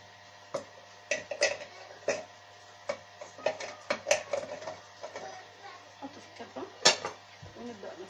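Garlic cloves chopped with a knife in a bowl while preparing vegetables for freezing, giving irregular sharp taps and knocks, some close and crisp, over a quiet room with a steady low hum.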